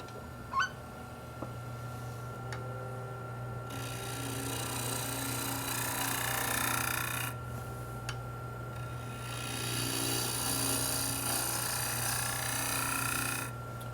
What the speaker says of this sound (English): Just using the wing of the bowl gouge, drawing from the center outward.